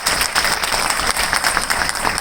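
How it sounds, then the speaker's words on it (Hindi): An audience at a congratulations event for two doctors claps loudly for a team member, dense continuous applause with a strong room echo and no talking over it. "प्लीज सुशीला ताई के लिए जोरदार तालियां होनी चाहिए"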